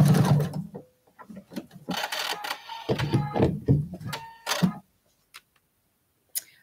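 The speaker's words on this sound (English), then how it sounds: "I just want to take a couple back stitches here." Domestic sewing machine back stitching along a quilt binding, with close bursts of fast mechanical ticking and whirring that stop and restart, then fall quiet apart from a few faint clicks.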